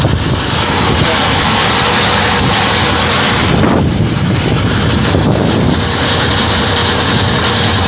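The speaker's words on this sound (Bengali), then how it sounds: "আমরা সুন্দরবনের উদ্দেশ্যে রওনা হলাম একটা ট্রলারে" A trawler boat heads across the water toward the Sundarbans, its engine a loud, unbroken roar mixed with heavy wind buffeting the microphone.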